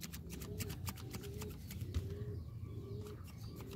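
A zebra dove (perkutut) coos in a soft, repeating rhythmic phrase close by, with light background noise and faint clicks.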